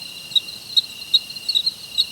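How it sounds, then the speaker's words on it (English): Crickets chirp as a comedic silence sound effect, a steady high, thin trill with regular pulsing chirps, alone and fairly clear with no talking. "Wow, Crickets."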